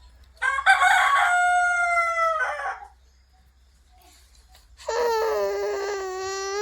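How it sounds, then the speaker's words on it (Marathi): A rooster crows twice, loud and close: one long drawn-out call, a few seconds of quiet, then a second crow begins. "कोंबड्याचा व्हिडिओ काढत होते, तेवढ्यात कोंबडा ओरडला."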